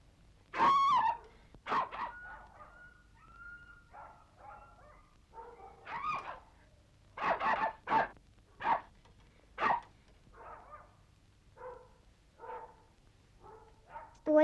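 A dog barks repeatedly at close range, sharp yaps and woofs in irregular bursts with short pauses, mixed with a few whiny yelps.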